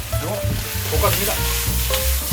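A spicy pork stir-fry with doubanjiang bean paste is stirred in a pan, a steady close sizzle broken by repeated scraping strokes of the utensil and a clack at the end, with no talking.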